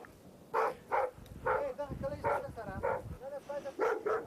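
A large dog barks in a steady series of about seven deep, loud woofs with short gaps, fairly near, over low background rumble.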